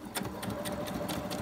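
A sewing machine stitches a piece of fabric in place during a Christmas sewing project, a steady close motor whir with rapid repeating needle clatter running continuously throughout.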